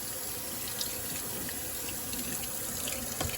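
Beans being rinsed off under a running kitchen tap, a steady, close, loud rush of water splashing into the sink that barely changes throughout.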